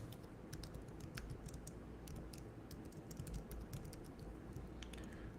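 Fingers type on a computer keyboard in a quiet room, a quick, irregular run of soft clicking keystrokes with short pauses, close and faint, no voices.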